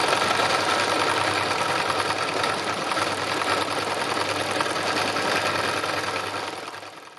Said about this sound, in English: this is really my favourite bit when I'm machine embroidering